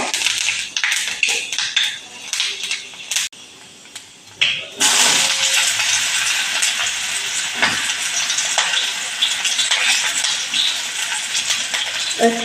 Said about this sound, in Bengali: তেলের মধ্যে একটু পাঁচফোড়ন দেবো